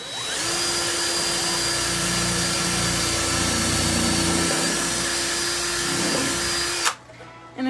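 A power drill drives screws into pallet wood, whirring steadily at close range for several seconds with a constant motor pitch, then cuts off abruptly near the end.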